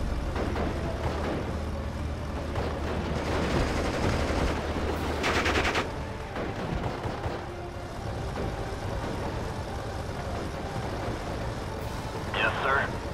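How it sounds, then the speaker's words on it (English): Heavy gunfire rattles through a World War II battle in the strategy game Steel Division: Normandy 44, with bursts of machine-gun fire over a steady low rumble of vehicles and voices talking throughout. "Taking heavy fire."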